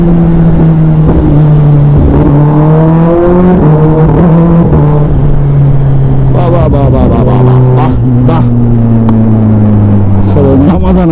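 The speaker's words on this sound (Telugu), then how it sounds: "ఆటో బ్లిపర్ సౌండ్ ఏమి వినిపిస్తుంది" A Kawasaki Z900 motorcycle rides loudly with an auto blipper, its engine note stepping down through downshifts. Short sharp throttle blips punctuate the drop, over steady wind rush.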